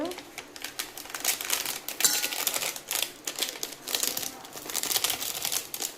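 A packet of buldak seasoning powder is cut open and the powder poured in, giving close crinkling and rustling of the packet while a person talks over it.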